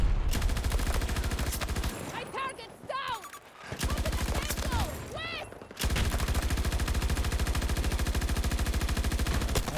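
Automatic gunfire in the shooter game Battlefield 2042 rattles in long, dense bursts. It breaks off briefly midway, where quieter game sounds come through, then resumes at full intensity.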